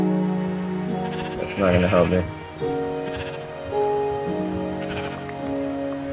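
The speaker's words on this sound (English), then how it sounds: "And there's a sheep." Sheep bleating in the Minecraft video game, a few short wavering bleats in the middle amid game music, with a player talking over it.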